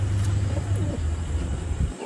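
Pigeon cooing, soft low rolling coos from a kept pigeon, heard over steady background hum and faint distant traffic.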